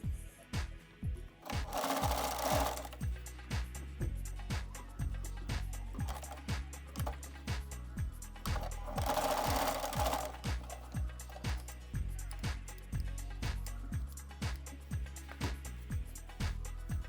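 A sewing machine stitches a drawstring for a baby's cradle in steady, rapid bursts with a regular mechanical clatter, pausing briefly between runs before starting again.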